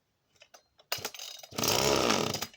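A Husqvarna project chainsaw with a rusty clutch and no side cover gives a few quiet clicks, then barks into life and runs loud and rough close by.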